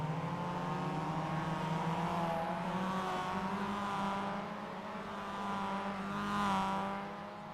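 Mazda MX-5 race cars roll through a formation lap in a sim racing game, engines droning with layered tones that rise and fall gently as the cars weave and warm their tires.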